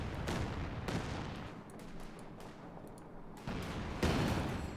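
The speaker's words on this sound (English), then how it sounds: "Calliope about to reach another barrage. And one machine gun." A Calliope rocket barrage and machine gun fire in Company of Heroes 2 produce dense rumbling bursts of launches and rattling gunfire, with loud salvos at the start and end and a quieter stretch between.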